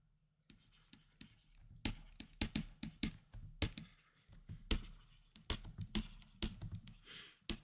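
A pen writing math notes by hand on paper, close and quiet, with bursts of scratchy strokes and short taps separated by brief pauses.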